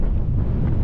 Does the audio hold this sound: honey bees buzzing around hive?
no